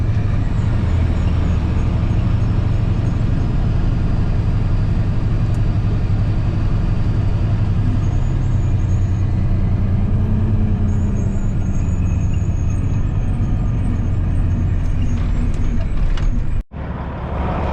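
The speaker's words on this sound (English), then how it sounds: "Last truck is leaving now" A truck pulling away from a farm, its engine rumbling low and steady close by for the whole stretch, with a brief knock near the end and no talk.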